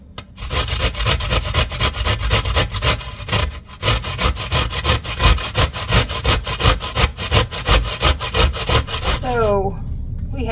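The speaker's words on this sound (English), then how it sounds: "I am just going to go ahead and grate this." Fresh beets are grated by hand in fast, steady rasping strokes, a dense rhythmic scraping heard up close that stops near the end.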